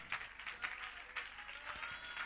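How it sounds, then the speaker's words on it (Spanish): Faint, distant applause from a church congregation during a Spanish-language service, scattered hand claps standing out over a soft steady clapping wash. "Dar un aplauso a Jesucristo, hermano, esta mañana."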